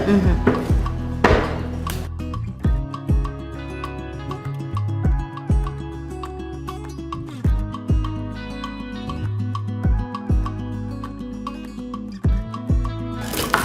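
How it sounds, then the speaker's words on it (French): Knife chopping onions on a board for a sweet potato and small fish stew, sharp regular thuds close up with short pauses between bursts, and a faint voice in the background. "nous allons couper les oignons"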